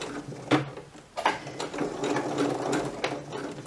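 A sewing machine stitches an invisible zipper with a zipper foot, giving a close, steady mechanical whir with a few sharper clicks and surges. No voices are heard.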